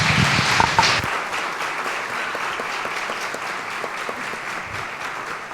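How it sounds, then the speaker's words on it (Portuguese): An audience applauding, the clapping loudest at the start and then continuing steadily as a dense, slightly fading patter. "uma salva de palmas para ela, gente"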